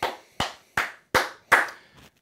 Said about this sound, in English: I'm going to clap it up to Penn State, man.